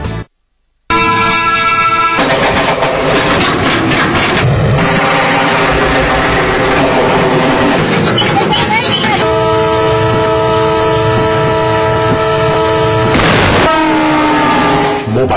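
A train rolls past a railway crossing with loud, sustained horn blasts that rise and sustain over the rumble of the wagons, close and dominant, after a brief silent start.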